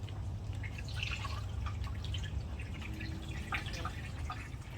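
Coolant pours into the radiator of a 1966 Ford Bronco under restoration, a steady liquid gurgle and dripping splash that runs continuously for several seconds without talk.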